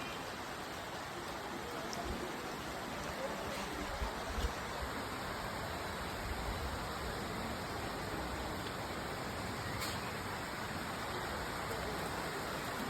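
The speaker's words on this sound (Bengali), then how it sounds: "অতি ভারী বৃষ্টি হচ্ছে আর সাথে ঝড়ও হচ্ছে।" Very heavy rain falls with a storm over a flooded market area in Lakshmipur, Bangladesh, a constant dense hiss of downpour, fairly faint and unbroken, with no voices heard.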